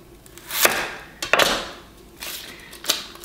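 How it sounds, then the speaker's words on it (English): Knife slicing through vegetables for cortido, a fermented cabbage slaw, on a cutting board; three crisp separate chops with short crunchy tails, spaced about a second apart, close and fairly loud with no talking. "Keep slicing."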